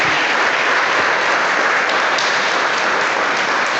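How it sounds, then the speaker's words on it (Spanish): Church congregation applauding steadily at a Spanish-language service, a dense, continuous wash of clapping held at a loud, even level throughout with no talking over it. "Dele un aplauso al Señor."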